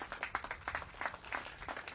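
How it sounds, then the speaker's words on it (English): An outdoor crowd at a Juneteenth celebration event in Emancipation Park gives a round of applause, a moderate, continuous patter of clapping heard at some distance. "So let's give him another round of applause."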